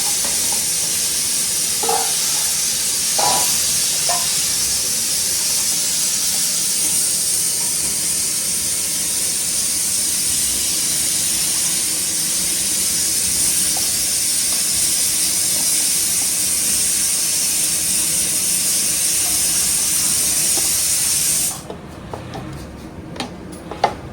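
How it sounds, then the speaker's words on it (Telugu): A pressure cooker of mutton kurma on a high flame hisses steam in a steady, loud rush for about twenty seconds, then cuts off abruptly to near silence. "ఇప్పుడు దీంట్లో మనం మంట అనేది కొంచెం పెద్దది పెట్టేసుకొని కుక్కర్ విజిల్ అనేది పెట్టేసుకోవాలి"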